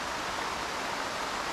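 Steady broadband rush of a waterfall at Rastoke, Croatia, a continuous close roar of falling water with no pauses or voices.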